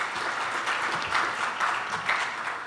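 A conference audience at an investment summit applauds a panel moderator, a full, steady round of clapping that swells slightly in the middle and carries on to the end.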